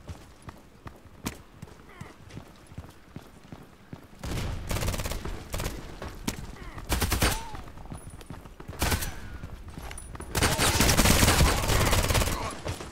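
Gunfire in the online shooter Contract Wars, with scattered single shots early on, then loud rapid bursts of automatic fire in several clusters, the heaviest near the end.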